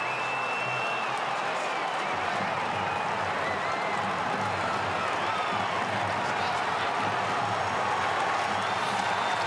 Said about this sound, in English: And Carlton fans stand to applaud as he comes to the bench